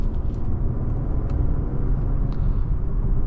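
A 2026 Genesis G90 Prestige sedan accelerates gently on a highway, its steady low engine and road rumble heard from inside the cabin, smooth and even throughout.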